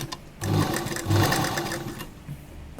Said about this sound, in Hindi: इनको इसके ऊपर फोल्ड करते हुए यहाँ किनारे सिलाई लगाएंगे